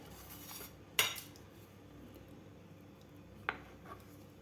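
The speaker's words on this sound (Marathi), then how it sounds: "आता सुरुवातीला हे कापून घ्यायचे आहेत आपल्याला अंडे" Six boiled eggs are cut with a knife, heard as two sharp, close clicks of the blade against a plate or board about two seconds apart over a quiet background, with no talking.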